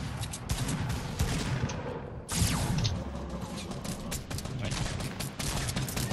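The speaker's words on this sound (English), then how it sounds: "Who's shooting the shotgun?" Shotgun blasts in a team shooter video game, heard as sharp repeated bangs through a busy mix of gunfire and mechanical clatter, with players talking over the action.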